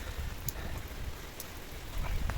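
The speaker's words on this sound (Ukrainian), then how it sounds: "Це добре, що пішов дощ." Rain falls steadily outdoors as a soft, continuous hiss with a few faint, scattered drops ticking on a surface, fairly quiet throughout.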